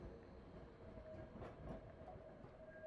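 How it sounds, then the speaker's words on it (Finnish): A city tram rolls past with a continuous low metallic rumble and rattle, faint and steady, with a few brief clanks in the middle. "Raitiovaunut kolisevat. Raitiovaunun ääni on kova metallinen ääni."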